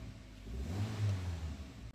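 A car engine runs after a jump start from a motorcycle battery, a faint low hum that swells briefly in revs and then eases back toward idle.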